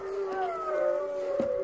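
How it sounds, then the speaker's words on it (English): Several dogs howl together outdoors, long wavering cries overlapping and sliding in pitch, fairly loud and sustained across the whole moment with no talking. "Ares and Athena howling over there."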